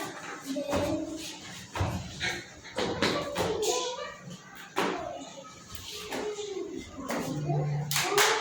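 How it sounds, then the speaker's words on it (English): Children clapping in a school game, scattered irregular bursts of hand claps and taps mixed with thumps and shuffling, with voices talking throughout. "Claps."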